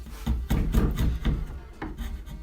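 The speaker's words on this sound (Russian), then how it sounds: "нам нужно будет взять стамеску и понемногу удалять лишнюю часть самого дерева" A chisel carves out wood for a knife sheath insert, giving a series of close scraping, rasping strokes in uneven rhythm with brief pauses between cuts.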